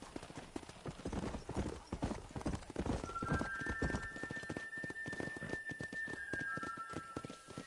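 Steady, close clip-clop of horse hooves in the Western video game Red Dead Redemption, an even trotting rhythm with a brief whinny partway through and no talking.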